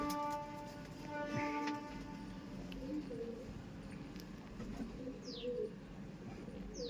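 Pigeons in a loft coo in low, continuous murmurs, with occasional higher chirps above a steady background hum.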